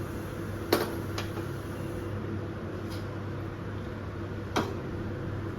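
A kitchen stove being switched on while making plum jam: a few sharp clicks, two close together early and one more later, over a low, steady background hum.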